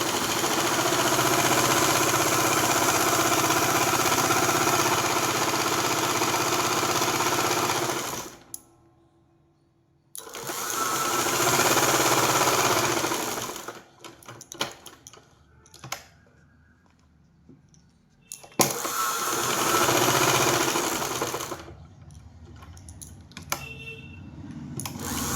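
A sewing machine stitches a kurti collar in long, steady runs of close mechanical whirring. Brief pauses fall between the runs, filled with clicks and fabric handling.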